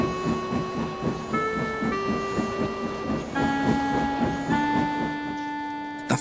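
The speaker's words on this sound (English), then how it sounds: "The fireman raised steam as quickly as he could, and Henry, blushing with embarrassment, set off for the big station" A steam engine sets off from a station as a story sound effect: a sustained whistle-like tone shifts pitch over a steady, rhythmic chuffing pulse, loud and close throughout.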